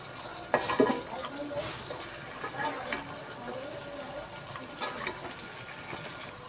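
Stalks and potatoes fry in oil in a pan for a fish dish, a moderate hiss with intermittent stirring scrapes and clinks, some louder bumps near the start.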